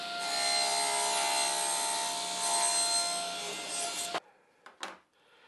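Circular saw cutting a wooden strip, a loud, steady whine held for about four seconds before it stops abruptly, followed by a couple of faint knocks.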